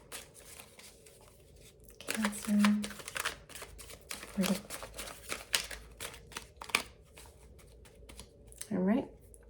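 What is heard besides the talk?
tarot cards being shuffled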